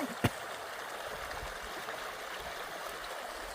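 Clear spring water near Mangla Dam flowing steadily out of the ground, a continuous close gurgling rush with one brief knock near the start and no talk.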